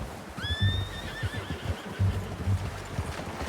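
A horse whinnies in the video game Red Dead Redemption II, a rising, wavering call that fades out, over a busy low rumble and soft thuds of hooves in the background.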